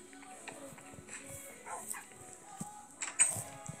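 Wolf puppy in the Minecraft video game giving a few short yips and soft whimpers, scattered and light, with someone talking in between.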